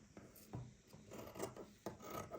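Scissors cut through yellow fabric to make the side pieces of a handmade bag. The rasping snips repeat at an uneven rhythm, close by and faint, with no talking.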